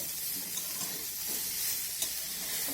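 Tomato, ginger and green chilli fry in a pan while a utensil stirs them, giving a steady, soft sizzle with faint scraping taps, close by and quiet, with no voices.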